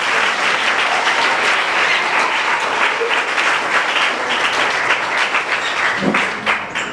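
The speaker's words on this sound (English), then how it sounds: "Clap for him." An audience at a school reunion health talk claps for a guest, a sustained wash of many hands applauding at even loudness that starts to thin out near the end.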